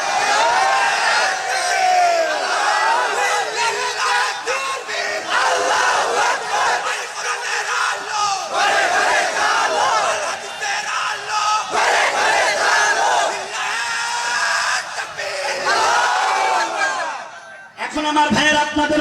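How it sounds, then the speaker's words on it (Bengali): Large crowd at a religious gathering roaring takbir, Allahu Akbar, in loud massed chanted shouts, repeated several times in waves, close and powerful, ending with a brief drop. "তাকবীর দেন, জোরে বলেন"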